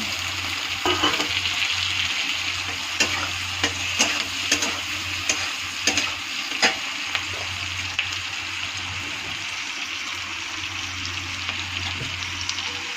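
Whole garlic and quartered tomatoes frying in a pan for egg bhaji, a loud continuous sizzle with repeated sharp clicks and scrapes of stirring throughout.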